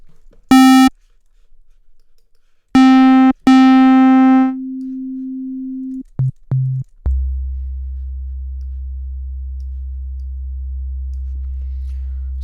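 A Massive software synthesizer plays a few short bright buzzy notes, then a sustained mid tone, a couple of brief blips, and finally a steady, pure low sine tone that holds alone to the end.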